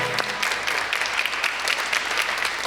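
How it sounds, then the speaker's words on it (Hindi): Studio audience applauding on a talk show, a steady burst of clapping at moderate level with no voices over it. "भाई तालियां।"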